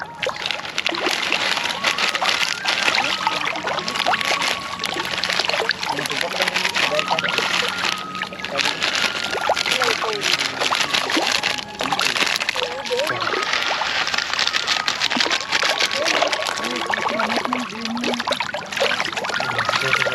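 Fish and turtles crowd a pond, splashing and churning the water close by as they are fed watermelon and puffed rice, with repeated irregular sloshes under steady chatter from people nearby.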